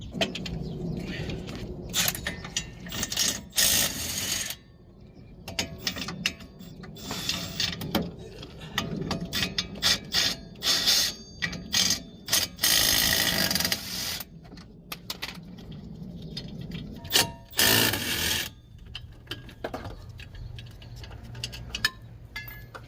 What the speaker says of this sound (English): There's 4 17mm bolts in the back holding on that wheel bearing. I'm gonna take those off and put the other one on.